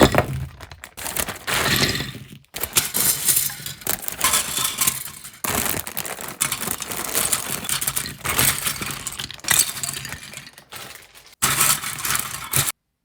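A tough, hard-to-tear plastic bag holding Lincoln Logs is wrestled open up close, producing loud bursts of crinkling and crackling plastic in several long stretches separated by short pauses.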